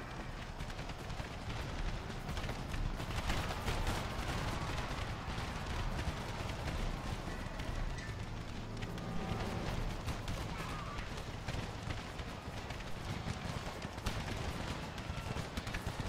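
Cannon and musket fire boom and crackle continuously across an American Civil War video game battle, dense distant volleys layered into a steady rumbling din that persists throughout, with no clear talking.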